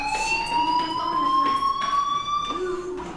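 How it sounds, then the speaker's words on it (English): The fire alarm in the video game Life is Strange wails with a steady, slowly rising electronic tone throughout, moderately loud, with a voice speaking faintly underneath. "do you hear that fire alarm? That means you should be outside."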